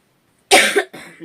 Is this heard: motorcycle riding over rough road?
no